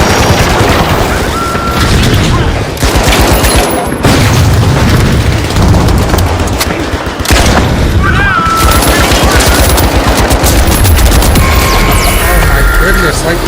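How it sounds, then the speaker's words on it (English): Gunfire from a potato-shooting gun in a Minecraft multiplayer game, loud dense bursts of shots and booms that run almost the whole time, with a short dip near the middle. "what am I shooting potatoes out of this gun?"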